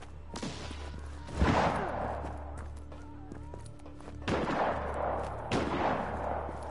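Gunfire in Just Cause 3: loud, sharp gunshots and heavy booming blasts that come in spaced bursts over a constant low rumble of game ambience.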